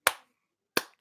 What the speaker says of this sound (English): Let's let's just give him a clap or her.